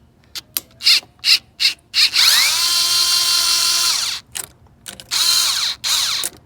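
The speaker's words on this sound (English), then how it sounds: "This drill makes this a lot easier. It's not really a drill. It's called, I think it's called the snap-on drill tool." A Snap-on power ratchet loosens 7/16 deep-socket fittings on a 2001 Ford 7.3 Powerstroke diesel. Several short, close whirring bursts give way to a long sustained buzz, then more quick bursts.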